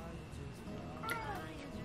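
A pet cat meows once at close range in a quiet indoor room at night, a short rising-and-falling call over low background hum.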